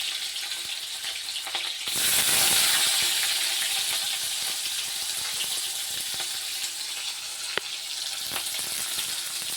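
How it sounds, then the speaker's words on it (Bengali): Chopped onions hit hot oil in a kadai with a sudden loud hiss that settles into a steady, close sizzle and crackle, with occasional stirring clinks. "এবার আমি কড়াতে দিয়ে দেবো কুচনো পেঁয়াজ।"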